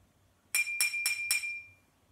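A drinking glass, partly drunk from to change its pitch, is tapped four times in a steady rhythm, each bright ringing clink decaying briefly before the next; the last tone lingers and fades out.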